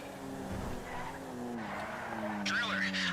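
Tires skidding and squealing on a car in GTA 5, a steady engine drone with a sharper screech rising near the end, heard under a man's speech.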